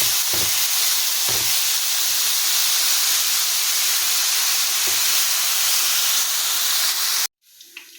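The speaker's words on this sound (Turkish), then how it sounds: "kuyruk yağları erinceye kadar böyle karıştırmaya devam edeceğiz" Lamb tail fat renders in a pan while being stirred for kavurma, giving a steady loud hiss and sizzle with a few low knocks from stirring, then cutting off abruptly near the end.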